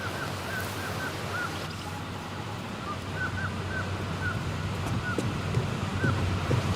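Steady rush of waves and wind around a boat at sea in the game Tell Me Why, with a faint recurring chirp over the constant wash.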